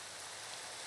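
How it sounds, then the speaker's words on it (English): Steady rain falling in Minecraft, a dense, even hiss of drops with no pauses, heard alone and fairly faint. "Oh man, now it's raining."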